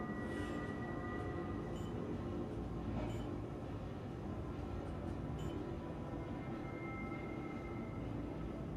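Monorail train in the Star Citizen video game, running with a steady low rumble and hum that stays constant and fairly faint throughout, with no voices over it.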